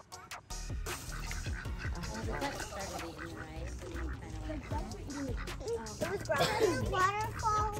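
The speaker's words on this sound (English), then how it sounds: "Get away from that duck!" A duck quacks repeatedly at an outdoor pond while children chatter and call out nearby; the quacks grow louder and more insistent toward the end.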